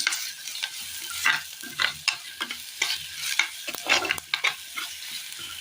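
Food frying in oil in a pan while being stirred for a Kerala recipe, with continuous sizzling and repeated scraping strokes of a spoon close by.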